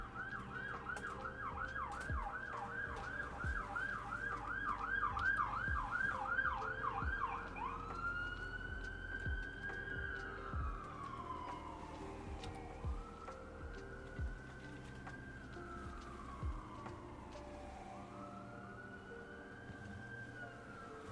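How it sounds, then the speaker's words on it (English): An ambulance siren wails loud and close, first in a rapid yelp pattern, then shifting to a slower rising-and-falling wail as it passes and continues over steady traffic rumble. "I believe that was the ambulance."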